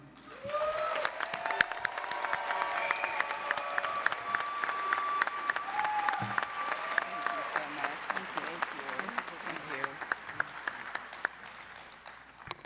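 A large audience at the Oxford House World Convention 2023 opening general session applauds steadily for over ten seconds to welcome a speaker, with scattered cheers in the dense clapping.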